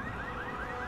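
An electronic alarm in Resident Evil 6 wails in repeated rising sweeps, steady and moderately loud, with no one talking.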